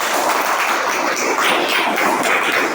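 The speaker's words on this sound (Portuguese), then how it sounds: "desocupe duas mãos e dê uma chuva de palmas" A church congregation gives a steady wash of applause, dense and fairly loud, with many hands clapping at once and no talk over it.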